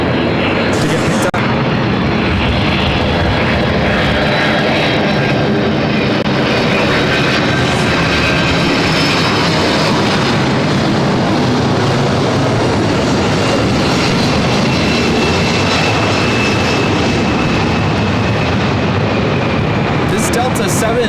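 A Delta Boeing 767-300ER arrives at LAX from Honolulu as flight 495, a loud, continuous jet rumble with a rising whine that fills the whole span beneath voices.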